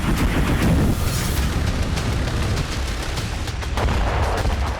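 A rapid series of loud booming blasts from attacks in Crimea, one after another with no pause, dense and close.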